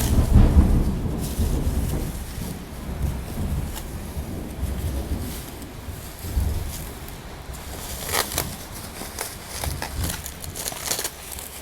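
Rain with thunder, a heavy low rumble rolling in at the start and fading, over a steady hiss of falling rain, with a few sharper crackles toward the end and no talking.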